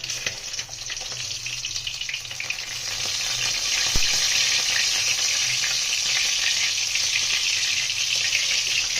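Pieces of fried katla fish go into a pan of hot masala for a Bengali-style kaliya. A steady, loud oily sizzle runs throughout, with one sharp utensil clack midway. No voices.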